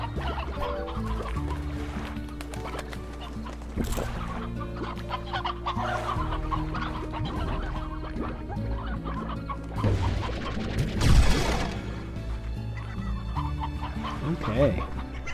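Chickens from the video game Slime Rancher cluck repeatedly in short, scattered bursts, set among game sounds and a brief crash. A person talks throughout.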